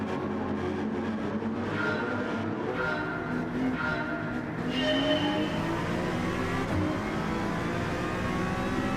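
A race car's engine revs hard and climbs through the gears in a Gran Turismo 7 daily race, loud and continuous with the pitch rising and falling over several shifts.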